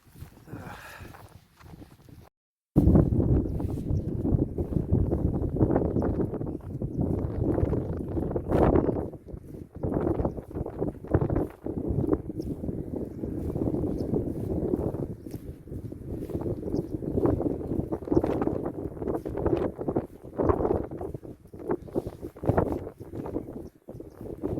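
Blustery wind buffeting the microphone on a hilltop walk along the South Downs at Devil's Dyke, loud low rumbling gusts that surge and drop irregularly after a brief quiet start, with no talk.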